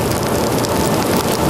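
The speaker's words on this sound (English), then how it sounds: "The freezing rain won't let up." Freezing rain falling during the 1998 Montreal ice storm, a steady, dense hiss that stays even and unbroken throughout with no voices.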